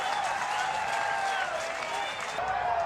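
Fans at a college baseball regional game between Cincinnati and Oregon State keep up steady applause and crowd noise throughout, with a whistle-like tone riding above the clapping.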